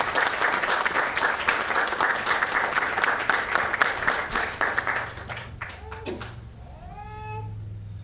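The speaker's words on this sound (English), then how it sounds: "So please join me in giving him a round of applause." A room full of people applauds a retiring police captain at a city council meeting, the dense clapping fading after about five seconds into scattered claps and a few voices.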